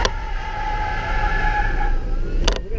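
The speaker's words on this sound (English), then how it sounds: "That's a pretty good burnout." All-electric Ford F-150 pickup in race mode doing a burnout, a loud sustained roar with a whining tone, ending in a brief sharp screech, no talking.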